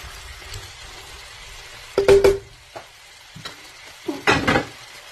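Shrimp sizzling and being stirred in a pan while cooking pansit bihon, with two loud bursts of frying and scraping against a low steady sizzle, no voices.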